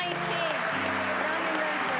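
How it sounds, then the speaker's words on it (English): Applause at the Invent Idaho state finals awards ceremony for young inventors, a steady wash of clapping mixed with music and voices for about two seconds. "Give them a final round of applause as we have a group of 19"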